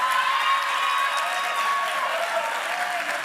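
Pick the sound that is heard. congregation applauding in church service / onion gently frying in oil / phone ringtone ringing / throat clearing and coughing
congregation applauding in church service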